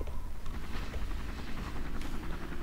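A helicopter in the rescue video game Emergency 2012 gives a low, steady rotor rumble and drone, faint and continuous, with no talking over it.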